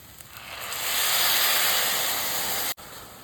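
Water poured into a hot pot of vermicelli toasted in oil with ground vegetables gives a loud, steady sizzling hiss that swells and holds, then cuts off abruptly near the end.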